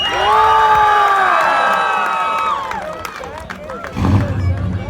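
Crowd cheering and whooping at a car show for a 1966 Corvette, a loud burst of many voices that fades after a couple of seconds, followed by scattered shouts and crowd chatter.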